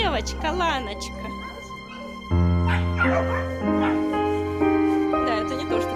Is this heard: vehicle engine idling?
no